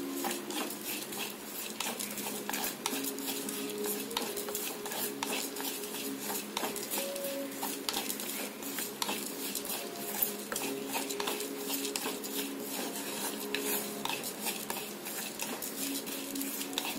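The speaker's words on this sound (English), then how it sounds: "Fry it for a few seconds." Bitter gourd chutney with desiccated coconut being fried and stirred in a pan: a steady, soft sizzle under repeated light scraping and tapping of a utensil against the pan.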